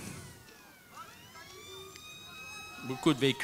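A siren wails with rising and falling tones from an old military Jeep arriving in a Liberation Day parade of vintage vehicles in Saint-Quentin, sounding moderately near and sustained, with a brief burst of other noise near the end.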